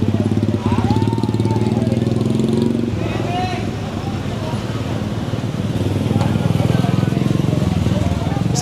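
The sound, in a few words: motorcycle engine running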